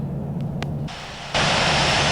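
Loud jet engines roar steadily in the Infinite Flight simulator game, and the hiss rises sharply partway through as the engine noise grows.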